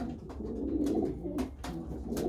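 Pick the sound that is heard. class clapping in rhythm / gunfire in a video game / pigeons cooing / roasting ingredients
pigeons cooing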